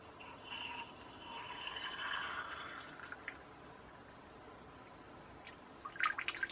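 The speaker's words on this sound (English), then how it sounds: "Yep, we're dripping now," Water drips from a ball cock valve whose diaphragm is being replaced, faint and close, with a brief hiss of flow early on and small drip taps toward the end.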